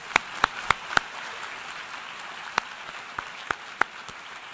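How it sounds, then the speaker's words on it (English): A handful of scattered, sharp claps ring out over a low hum of room noise at a UN International Day of Peace 2016 event, where the audience applauds Secretary General Ban Ki-moon; the claps are sparse and uneven rather than a full ovation. "Let's give him a round of applause"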